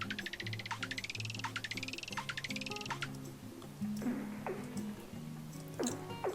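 A single cat meow sample run through a delay whose changing rate re-pitches it, giving repeating sweeping electronic tones that glide up and down in pitch, rhythmic and steady, with no talking.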